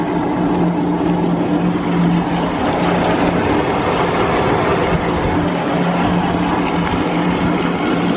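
A Norton three-level rolling jar ball mill grinding machine with bearing rollers runs steadily, giving a loud, continuous rumbling drone with a low hum throughout and no talking.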